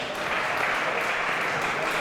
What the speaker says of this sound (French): Bast qui l'applaudit